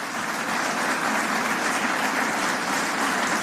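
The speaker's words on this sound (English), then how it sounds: "Let's give him a huge Atlanta round of applause" Applause from the crowd at a lying-in-state memorial for a former Atlanta City Council president, a dense steady clatter of clapping filling the hall for a few seconds with no voices.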